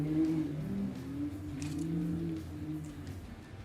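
Off-road side-by-side race vehicles in the Vet 40 Plus Outlaw and Stock classes at a Can-Am Texas Outlaw SXS Series round pull away, engines droning and revving together at moderate distance and slowly fading.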